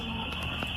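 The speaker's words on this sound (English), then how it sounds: "their house alarm starts to go off." A house alarm sounds inside a home as a steady, piercing electronic tone that holds for the whole moment without pause, with faint knocks and rustles beneath it.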